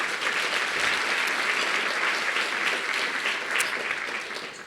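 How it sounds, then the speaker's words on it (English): Sustained applause from an audience at a guild event, a dense, steady clatter of many hands that holds for several seconds and then tapers slightly toward the end. "How about a round of applause for everybody involved with the Guild who made it happen?"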